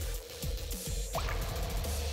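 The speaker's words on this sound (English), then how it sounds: "water drop, bro" A single water drop effect from Like a Dragon: Infinite Wealth plinks once with a short rising blip, set against a bed of soft game ambience and faint repeating low thuds.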